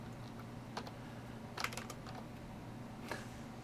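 A computer keyboard is typed on in a few short, quiet bursts of clicks against a steady low hum.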